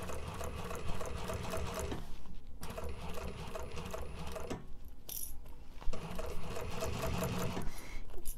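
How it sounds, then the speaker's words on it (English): A sewing machine stitches along a bag seam in steady mechanical bursts, pausing briefly between runs, close and alone with no talk. "It's nice to be able to have a seam to follow because then you're not sewing blind."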